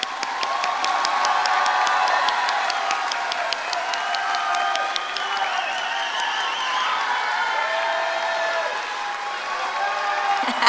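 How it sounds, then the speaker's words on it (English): A crowd applauds and cheers at the 2023 commencement ceremony of the Harlingen School of Health Professions. The dense clapping is steady and strongest early, with scattered shouts and voices running through it for about ten seconds. "Everybody give them a round of applause"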